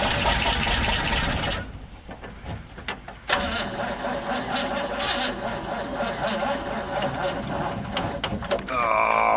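A 1957 Oldsmobile 88 engine cranks and catches after sitting since 1987, settling into a rough, loud running idle after a short sputtering gap, with a voice briefly heard.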